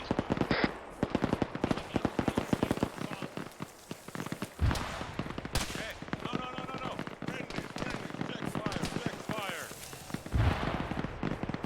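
Gunfire in the Arma video game during a large multiplayer battle: rapid bursts of automatic rifle fire and sharp single shots crackle almost continuously at close range, with heavier distant booms and voices talking over the shooting.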